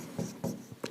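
Chalk or marker strokes on a board while a maths formula is written: three short scratchy bursts in under a second, close and fairly quiet, with no talk over them.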